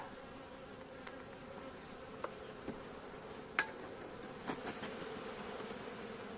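Caucasian and Carniolan honey bees at a hive sealed with propolis hum in a steady, low swarm drone, with a few sharper taps and knocks over the buzzing.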